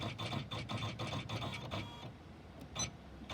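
A home embroidery sewing machine stitching a design, with rapid rhythmic needle clatter for about two seconds, then a quieter hum and a brief final burst.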